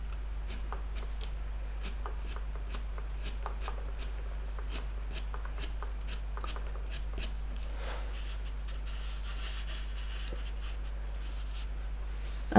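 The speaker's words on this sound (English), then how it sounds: "I can start to take some pastel pencil and just soften these edges into the background a little" Soft pastel pencil dragged over paper while white pigment is worked into background edges of a goat drawing, giving a steady series of light, scratchy strokes close to the mic over a constant low hum.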